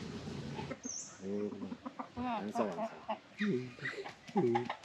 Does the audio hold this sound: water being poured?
no